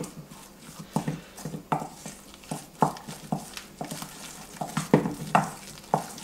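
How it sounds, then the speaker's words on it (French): Potato fritter batter with parsley and a raised egg being stirred in a bowl, a steady series of soft wet scrapes and knocks with no voices. "On mélange tout ça."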